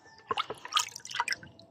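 Water splashing and dripping while freshly picked guavas are washed outdoors behind a house, a short run of small close wet drops and splatters.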